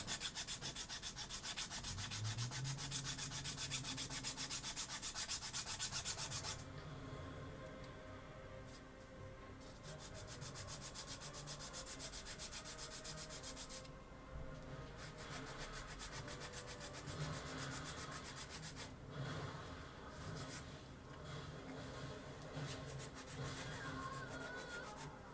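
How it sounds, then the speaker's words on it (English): A file rasps along the edges of flat kitbash model pieces, a close, scratchy back-and-forth rubbing that pauses briefly several times and then starts again. "A little filing on the inside to rough up the edges."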